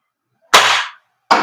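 Two sharp, loud cracks roughly three-quarters of a second apart as an airsoft pistol is fired indoors, each a short burst with a quick decay.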